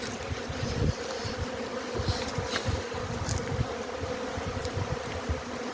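Dense, steady buzzing of many honey bees at an apiary in early spring, a loud close swarm-like hum with occasional louder passes of individual bees near the microphone.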